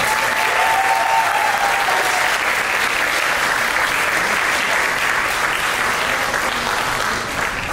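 Audience at a college Diwali dinner clapping for volunteers, a loud, sustained burst of many hands clapping at a steady, dense pace that holds for nearly eight seconds with a crowd murmur underneath.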